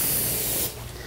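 Spray paint can hissing as it coats a closet door, a steady close spray burst that cuts off partway through, leaving faint room noise.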